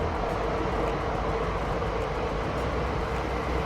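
A passing train gives a steady, loud low rumble and rolling roar that holds evenly throughout, heard alone without voices.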